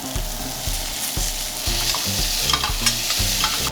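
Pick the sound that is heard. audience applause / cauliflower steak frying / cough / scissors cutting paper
cauliflower steak frying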